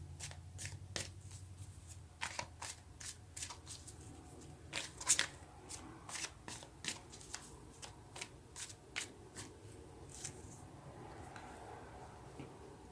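Tarot cards are shuffled in a run of quick, crisp riffling bursts, close and fairly quiet, with brief pauses between handfuls.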